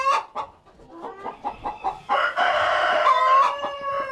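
Hens clucking in short repeated bursts, building into a louder, sustained squawking cackle toward the end, close by.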